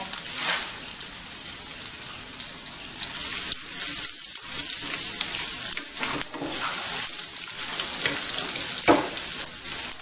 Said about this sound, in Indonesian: Ini minyaknya udah panas, saya mau masukkan bawang merah sama bawang putih. Kita akan goreng sampai beraroma harum atau matang gitu ya.